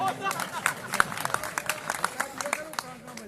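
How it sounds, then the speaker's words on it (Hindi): A crowd claps in a steady, uneven patter at an outdoor political gathering, with a voice speaking over the clapping. "हाँ जा समझ में आया मामा, ताली बजानी है।"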